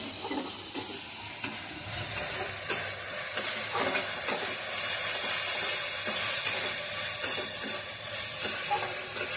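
Spice paste frying and sizzling in hot oil in a Bengali home kitchen, a steady close hiss with scattered stirring scrapes and clinks throughout, no talk.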